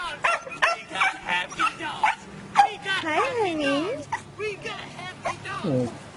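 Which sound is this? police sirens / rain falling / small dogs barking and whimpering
small dogs barking and whimpering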